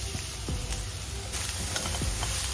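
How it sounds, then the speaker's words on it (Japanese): Onions are added to olive oil and browned garlic in a frying pan, and a dense, loud sizzle runs the whole time with occasional faint stirring clicks. "ニンニク色づいてきたら玉ねぎを加えていきます"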